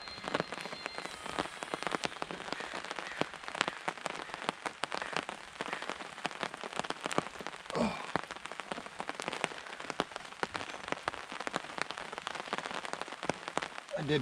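Heavy rain falls hard and steadily outdoors at a campsite, a dense, even hiss of drops pattering on surfaces with no talk.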